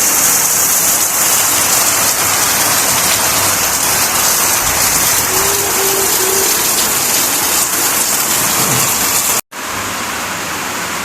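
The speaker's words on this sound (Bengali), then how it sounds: "বাইরে যে কি বিভৎস বৃষ্টি পড়ছে" Heavy rain pouring outside, a dense, loud, steady roar of rainfall that cuts off abruptly near the end and returns slightly quieter.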